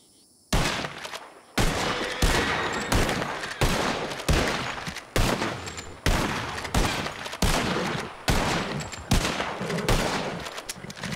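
Rifle gunshots in the Western game Red Dead Redemption RP, fired at a sign with a lever-action holding 14 rounds: about a dozen sharp, loud reports at a steady rhythm of roughly one per second, each ringing out briefly before the next.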